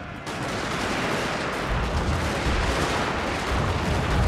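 Dense, continuous battle din of massed musket and gunfire volleys from the Fall of the Samurai strategy game, a loud steady roar of overlapping shots with no clear gaps.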